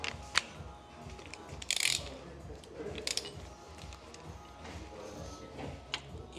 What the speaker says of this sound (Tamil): நாங்கள் ஆயில் ஃபில்டரை லூஸ் ஆக்குவோம்.